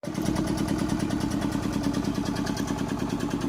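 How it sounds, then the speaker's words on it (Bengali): A tourist boat engine on a Sundarbans river runs as a loud, steady, close mechanical chug that carries evenly from start to finish with no break. "একটা টুরিস্ট বোট কিন্তু যাচ্ছে"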